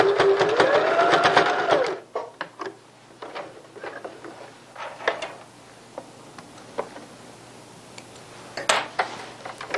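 A sewing machine stitches a curtain panel with a 1 cm backstitch. A brief rising motor whir and rapid needle chatter come first, then sparse clicks, taps and handling noises as the fabric is adjusted. No speech.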